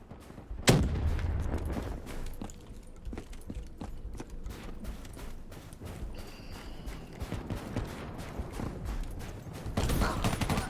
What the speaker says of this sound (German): Einmal Granaten schießen.